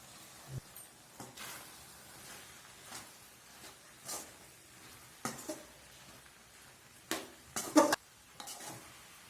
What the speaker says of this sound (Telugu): ఇలా రైస్ని కొద్దిగా వేసుకొని మనకు ఎంత కావాలో అంత కలుపుకోండి